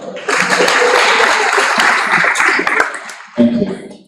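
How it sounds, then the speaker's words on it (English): An audience at a student mentorship forum applauds steadily, with dense, loud clapping that holds for several seconds, fades briefly, then rises again near the end. "You can give him a round of applause"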